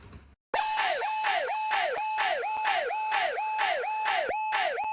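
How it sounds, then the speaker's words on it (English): An alarm siren effect in a music remix: a loud electronic wail that sweeps up and down in quick repeating cycles, starting sharply after a brief silence and continuing steadily on its own. "And you can't miss an alarm effect."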